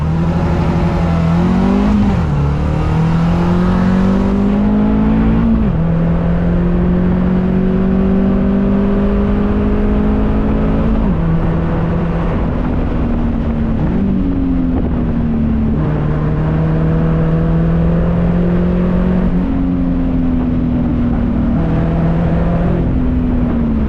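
A Caterham 275S sports car engine, rated at 135 horsepower, revs loudly and continuously while driving, its pitch rising and dropping with each gear change, heard up close with no talking.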